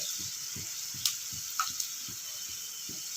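Chana dal fries quietly in peanut oil, giving a soft continuous sizzle with a few sharp crackles and spits, while gentle low taps of stirring repeat at a steady rhythm underneath.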